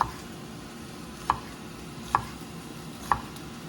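A knife slices scallions on a board into diagonal quarter-inch garnish pieces, three sharp, evenly spaced taps over a quiet background hiss.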